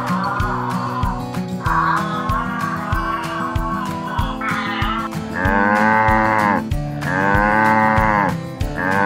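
A cow moos several times, long drawn-out lowing calls separated by short pauses, heard over a rhythmic background music track.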